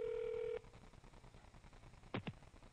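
Telephone dialing tones for a morning radio prank call: a steady tone that cuts off, then a quiet hiss and two short sharp blips, fairly faint.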